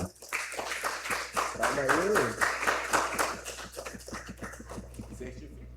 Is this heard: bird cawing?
no